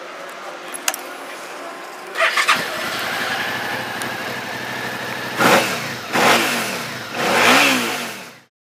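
A 2013 Suzuki SFV650 Gladius 650 motorcycle fitted with a Yoshimura muffler starts up after a click, idles with a steady rumble, then is revved in three rising blips close by, ending abruptly.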